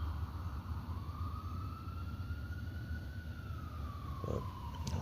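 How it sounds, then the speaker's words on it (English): Emergency vehicle siren wailing in the distance, a faint, slowly rising and falling tone over steady road and engine rumble, continuous throughout. "I can hear sirens in the distance."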